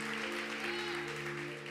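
A church congregation applauds with a steady wash of clapping over a sustained organ or keyboard chord, moderately quiet and continuous, with no voices.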